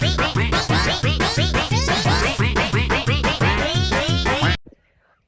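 A dense flock of geese on a collective goose farm in Russia, loud overlapping honks and cackles in a rapid continuous chorus that cuts off abruptly near the end.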